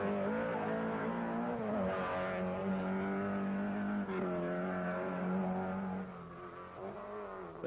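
A 1983 Monte Carlo Rally saloon car locks up a front wheel, its engine note holding steady and loud throughout while a tyre skids, with a slight drop in level near the end.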